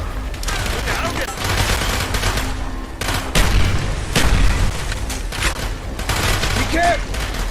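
Heavy gunfire and explosive booms in Call of Duty Black Ops, a dense battle din of rifle bursts and blasts running throughout, with shouted voices over the combat.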